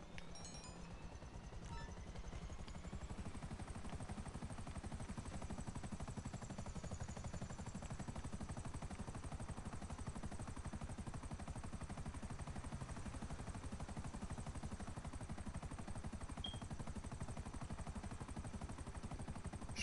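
A plane flying in a crime video game, picked up at an airport for a cash drop-off run: a steady, loud engine drone that holds constant throughout, with no talk over it.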